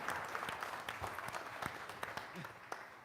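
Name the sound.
audience birthday applause at award ceremony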